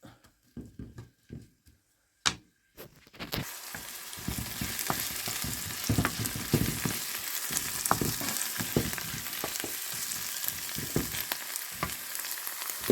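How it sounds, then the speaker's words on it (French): Chopped onions sizzling and frying in hot oil in a pan, a steady crackling hiss with occasional stirring knocks, after a few sparse clinks at the start. "Je vais mettre mes oignons. Je vais laisser mijoter un peu."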